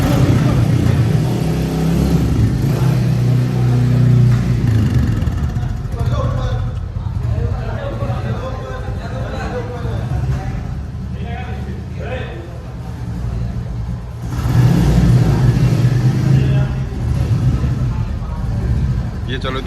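Newly rebuilt BS6 motorcycle engine running and revving in a workshop, a steady rumbling idle with rising revs, while someone talks over it almost throughout.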